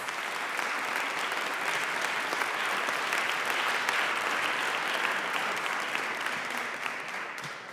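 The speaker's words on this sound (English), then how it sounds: "I would like to give this terrific panel a round of applause and thanks" An audience applauds a panel at a retirement policy event, with steady, dense clapping from a large crowd that holds even throughout and fades slightly at the end.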